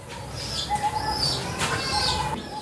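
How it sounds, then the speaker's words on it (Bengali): A pair of Abluk pigeons coo and flutter their wings nearby, with soft rustling flaps and intermittent chirpy calls over a steady background, no talking. "এবার একজোড়া একটা আবলুক পায়রা দেখাচ্ছি"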